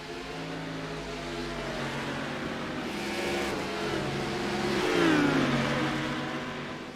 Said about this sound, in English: Whoa, that's a big group of cars.